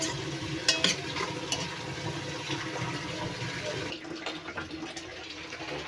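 Drained soya chunks are sautéed in a pan for soya pulao, a soft sizzle with occasional stirring scrapes, fairly quiet and close, amid faint kitchen background noise.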